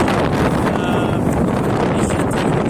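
A strong windstorm in Islamabad roars and buffets the microphone in a constant, loud rush with no pauses.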